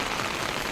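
Heavy rain pouring down over a village where sheep are kept, a dense, even hiss of water on surfaces, loud and continuous through a very short moment.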